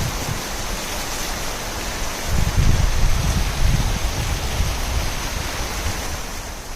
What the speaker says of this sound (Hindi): देखिए कितना खूबसूरत वाटरफॉल है। Just amazing, the gushing of water.